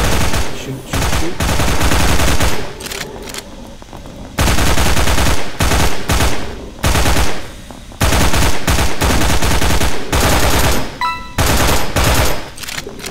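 Gunfire in the sci-fi video game Interstellar Prime, loud rapid automatic bursts in several long volleys separated by short pauses.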